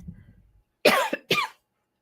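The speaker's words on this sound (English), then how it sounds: "I'm starting to cough" After a brief faint rustle, two harsh coughs ring out close by, one right after the other, loud and raspy.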